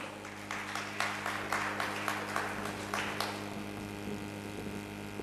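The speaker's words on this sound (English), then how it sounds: "Please, let's give him a round of applause" Scattered audience applause at a Black excellence cocktail mixer, faint and somewhat distant, with clap bursts for about three seconds before fading into a steady electrical hum.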